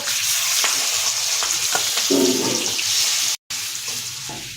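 Hilsa fish pieces dropped into hot mustard oil with nigella seeds and green chillies, giving a steady loud sizzle and crackle, with a brief clatter and stir partway and a short break near the end; no talking.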